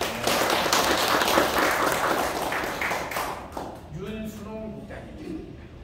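Audience applause at a founding general meeting of a nonprofit association, dense clapping from a crowd for about three seconds before fading, followed by a voice speaking.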